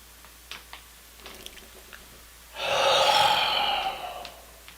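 A person breathes in deeply and audibly during an energy exercise. The long, airy inhale lasts about two seconds, is heard close up and comes after a few faint small noises.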